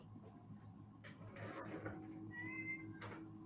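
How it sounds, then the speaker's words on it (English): Cats meowing indoors, a few faint drawn-out, insistent cries rising over a low background hum. "Getting yelled at by cats."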